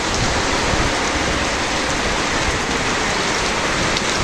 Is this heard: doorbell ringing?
no